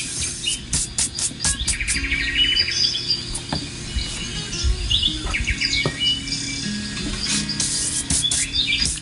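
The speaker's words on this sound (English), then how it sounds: "I will quiet down the birds" Birds chirp and tweet steadily in the background, with repeated bright calls and trills over a low rumbling bed of room noise, fairly close and continuous.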